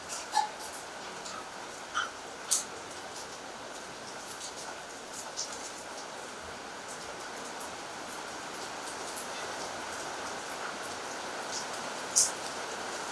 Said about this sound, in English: It's raining outside, so that's why we hear some noises.